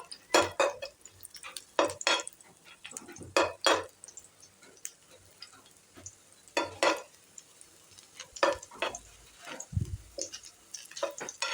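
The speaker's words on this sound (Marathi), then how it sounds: "तेल तापलं की त्यामध्ये लसूण घालायची ठेचून, थोडीशी परतून घ्यायची." Crushed garlic is stirred in a few spoonfuls of hot oil in a pan, with scattered metallic scrapes and clinks of a spoon against the pan over a soft background sizzle, close by.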